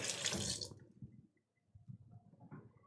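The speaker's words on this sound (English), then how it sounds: "Give my hands a quick rinse, got lots of cheese on them." Hands being rinsed of cheese under a running kitchen tap: a short burst of flowing water, then a pause and softer splashing and dripping, heard close and fairly quiet.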